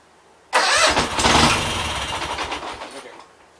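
A Gravely 8199 tractor engine fires on carb cleaner, bursting in loud and close with a rough roar that runs for a few seconds and then fades and sputters out.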